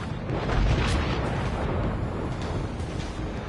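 A missile strikes a jet in Ace Combat 7, a deep rumbling blast that swells early and then fades into a long roaring wash of noise.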